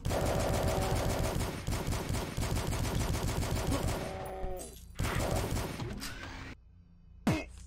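Shotgunners fire in Doom 2 played with Dusk's weapons, a rapid run of loud, punchy shots in quick bursts that breaks off into scattered blasts and short pauses.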